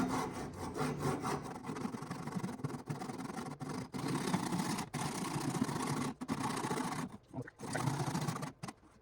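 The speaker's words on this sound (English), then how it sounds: "I'll just saw off the second part of my blank for a box lid" A hand saw cuts through a wooden turning blank to separate a box lid, making a rapid series of rasping strokes with brief pauses between them, close and fairly quiet.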